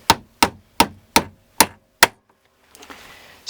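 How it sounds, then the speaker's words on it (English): Six sharp hammer blows drive a steel rod through a knot, evenly spaced and close by, then a softer scuffle of handling afterward. "you can push it, you can hammer on it"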